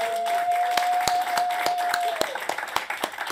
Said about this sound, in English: Give it a round of applause for Anthony Edwards.